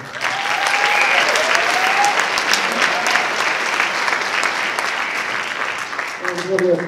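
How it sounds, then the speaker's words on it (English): Audience applause after a high school jazz ensemble's concert set, with a few whistles and cheers rising over a dense, steady clapping crowd for about seven seconds before it begins to thin. "Thank you, round of applause."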